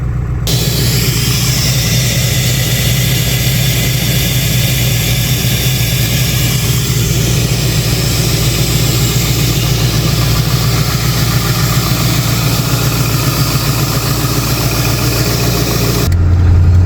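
A 2001 Ford F-250 Super Duty truck engine idles steadily while warming up, a continuous low rumble with a constant hum close by and no talking.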